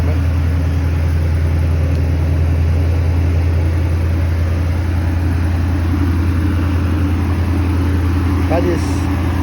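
A Ford Maverick with a fuel problem idles steadily, its engine giving a constant low rumble that runs evenly throughout.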